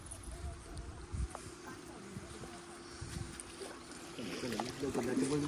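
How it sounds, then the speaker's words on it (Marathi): A boat with people aboard, heading out to sea to watch dolphins: a steady low rumble with water and wind noise runs throughout, rising louder near the end, while voices murmur in the background. "तर आपण आता बोट मध्ये बसलोय आणि निघालोय डॉल्फिन बघायला"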